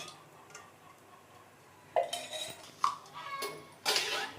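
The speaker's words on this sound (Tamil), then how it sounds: "வானல் அடுப்பில் வச்சு எண்ணெய் ஊற்றிக்கி" A metal pan being set on a kitchen stove and oil poured in for sweet raw-mango pachadi: a few clanks and scrapes of cookware, then a soft pour and clatter, close with no talking.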